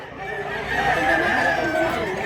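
Chickens at a market cluck and crow in a steady, fairly close chorus, with a drawn-out crowing call standing out over the busy background.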